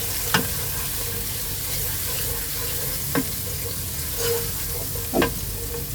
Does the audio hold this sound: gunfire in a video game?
no